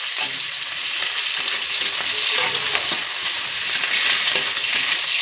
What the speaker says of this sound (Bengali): এখন লাল লাল করে আমি পেঁয়াজ কুচিটা ভাজা করে নেব